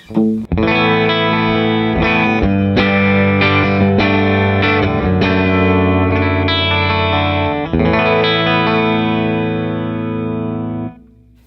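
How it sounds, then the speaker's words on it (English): Clean electric guitar chords ring out through a Fender Deluxe Reverb reissue amp on its vibrato channel, with a pulsing vibrato wobble and a little reverb, strummed steadily and left to fade at the end. "clean tone, vibrato channel, deluxe reverb reissue"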